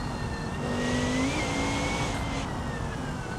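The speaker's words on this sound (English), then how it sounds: "That turbo just sounds like a vacuum cleaner." A video game race car turbo engine drones close and loud with a steady, vacuum-like whining turbo pitch rising slightly, a continuous mechanical roar with no talking.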